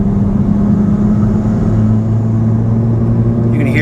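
A VW Golf MK8 GTI with a Milltek race exhaust holds a steady, loud cabin drone around 3,500 RPM, a deep continuous hum with the pitch dipping slightly midway and a faint crackle at the end.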